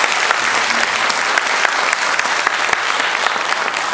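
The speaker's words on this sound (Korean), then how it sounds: "박수로 한번 환영하도록 하겠습니다." A church congregation at a Sunday morning service applauds to welcome newcomer families, with steady, dense clapping filling the room at close range for the whole stretch.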